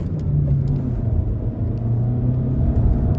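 A VW Passat B7 with a 1.4 TSI engine accelerates uphill, giving a loud, steady low engine rumble and road drone heard from inside the cabin, with no speech.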